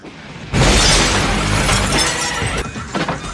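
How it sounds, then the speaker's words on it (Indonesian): A car showroom's window glass shatters after a thrown stone: a sudden loud crash bursts in after a brief quiet, then glittering fragments keep crackling and tinkling before trailing off, with no talk. "Cukup dilempar saja dan alhasil kaca showroom mobil pun pecah"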